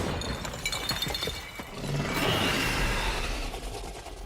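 Glass shatters as a huge monster bursts into a hospital building in Girls' Frontline 2, a burst of crashing, splintering debris followed by a sustained rumbling roar.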